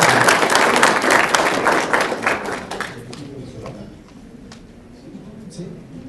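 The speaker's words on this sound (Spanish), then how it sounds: "por favor, con un aplauso recibamos a Javier" An audience claps to welcome a presenter at a talk on territorial planning and sustainable development, a dense burst of applause that thins out into scattered claps and then fades.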